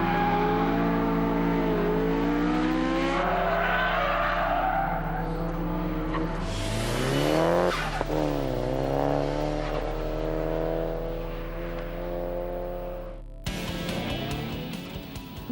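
Car at speed on a test track sliding through skids, loud sustained engine roar with rising and falling pitch and tire squeal, continuous and close, ending in a sharp change of engine note.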